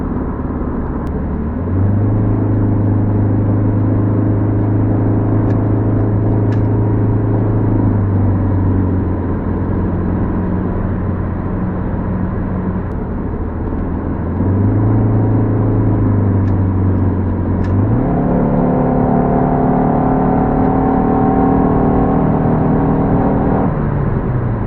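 A 2003 PT Cruiser Dream Cruiser, non-turbo, climbing a Rocky Mountain road at low revs, its engine droning steadily from inside the cabin with a low hum that rises and settles as the load shifts.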